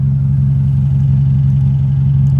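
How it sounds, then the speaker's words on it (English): Remapped Mercedes A180 AMG Line with its rear exhaust box deleted, idling in normal drive mode: a steady, loud low-pitched engine drone with a faint clattery texture, constant throughout with no revving. "this is it idling in normal drive mode"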